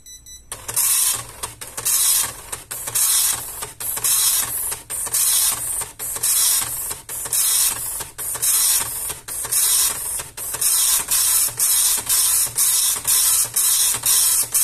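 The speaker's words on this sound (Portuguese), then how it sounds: "Ligue a impressora, pressionando a tecla do meio." An Epson LX-300 dot matrix printer runs its self-test, giving a loud, steady series of buzzing print-head passes, each burst separated by brief pauses as lines feed, with nobody speaking.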